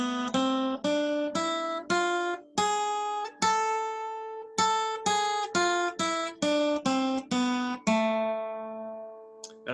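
A harmonic minor scale played as a clear run of about fifteen separate, evenly spaced tones on a pitched instrument, with the raised seventh degree giving an augmented step near the top, the last note ringing out.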